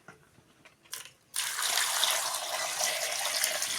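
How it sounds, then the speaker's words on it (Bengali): Tap water gushing steadily into a pot holding eggs and potatoes for boiling, starting after a few soft clunks and continuing as a loud, even rush. "দিয়ে দেব জল।"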